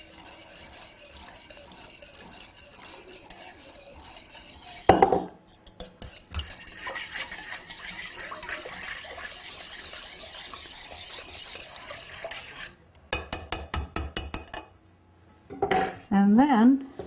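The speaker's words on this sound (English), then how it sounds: "Slowly stirring it." A utensil stirs milk into a squash pie mixture in a bowl, giving continuous close scraping and clinking against the dish, with a few sharper knocks and pauses near the end.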